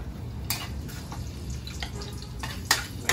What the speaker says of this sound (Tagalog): Siyempre, unahin natin yung bawang